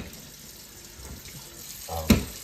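Water runs from a kitchen sink tap as hands are washed after breading flounder and shrimp, a steady close splash that swells into a louder gush near the end.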